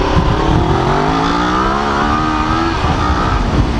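A 2019 Kawasaki Ninja 650 motorcycle fitted with an Akrapovic exhaust pulls away in its starting gear, engine note rising steadily as it revs up, loud and close, with no voices.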